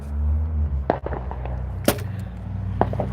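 Fireworks go off in three separate sharp bangs about a second apart, somewhat distant, over a low steady hum.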